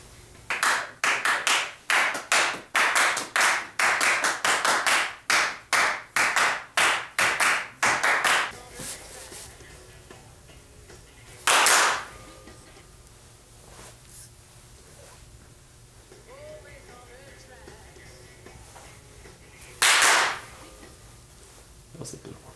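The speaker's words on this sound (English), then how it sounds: "The clapping is not very tight." A group in a recording studio claps in time to a pop track, a run of loose, sharp hand claps for several seconds, then quieter music with two isolated bursts of claps later on, and some people talking.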